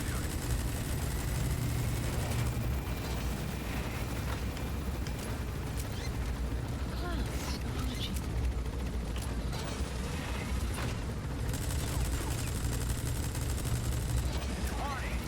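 Dense, continuous gunfire and rattling mechanical clatter from a Metal Gear Solid V: The Phantom Pain battle, loud and unbroken throughout, with a player talking faintly underneath.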